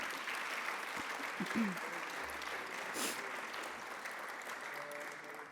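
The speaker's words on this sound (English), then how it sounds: "please give a big round of applause for our judges tonight" A crowd applauds the judges at a speech competition evening, a soft, continuous wash of clapping heard from a distance with faint murmuring underneath.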